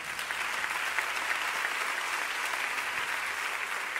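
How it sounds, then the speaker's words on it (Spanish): Steady, loud applause from a church congregation fills the whole stretch, continuous clapping with no pauses. "Denle un aplauso al Señor"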